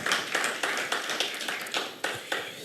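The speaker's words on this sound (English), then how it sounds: "Please give him a round of applause." A small audience at a corporate customer symposium claps for a speaker, a sparse, fairly faint run of distinct individual claps in an uneven rhythm.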